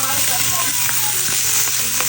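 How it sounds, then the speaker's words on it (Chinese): Spanish mackerel sizzling in a hot pan in a home kitchen, a loud, steady crackling fry with small pops throughout, close up and with no talking. "再来煎一下这个"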